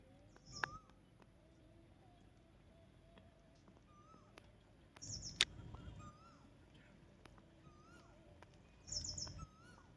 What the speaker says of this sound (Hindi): आवाज सुनो चिड़िया का।